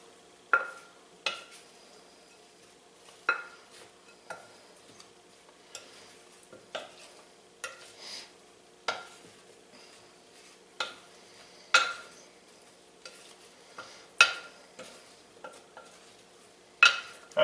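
Corned beef hash with thyme stirred in a pan, heard as a quiet background sizzle with a steady series of sharp utensil scrapes and taps against the pan, about one every second or two, close and alone.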